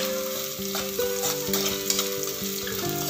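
Carrot pieces fry in hot oil for samba wheat kichadi, a steady close sizzle running throughout with faint stirring scrapes and no voices.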